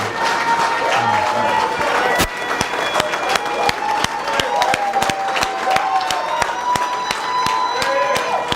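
A packed crowd at a campaign announcement claps and cheers for Greg Clay, with loud sustained applause, shouts and whoops filling the space and sharp individual claps standing out nearby.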